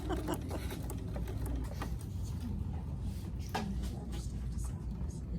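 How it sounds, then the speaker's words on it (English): A sewing machine stitches over rubber shelf liner while making quilted jar grippers, running in a steady, continuous mechanical whir close by from start to finish with small clicks along the way. "And now I'm stitching right on top of the other stitching."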